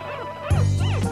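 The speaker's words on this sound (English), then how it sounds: "There sat my proud Perdita with 15 adorable puppies." Newborn Dalmatian puppies let out high yips and thin whimpers in a short, close burst, joined by a deeper dog sound partway through.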